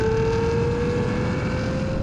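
BMW M8, Nissan GT-R and Ferrari V12 accelerating in a rolling drag race from 50 mph, heard as a loud, steady engine drone with a rising tonal whine and dense low rumble.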